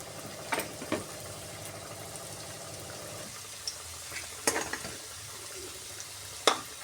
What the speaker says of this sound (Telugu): ఒక రెండు మూడు నిమిషాలు మనము ఫ్రై చేసుకోండి